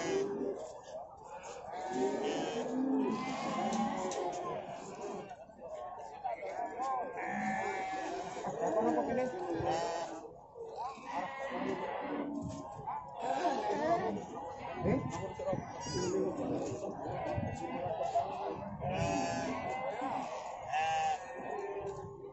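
Goats bleating repeatedly at a livestock market in Ngadirejo, several overlapping calls near and far amid a constant crowd murmur, with people talking throughout.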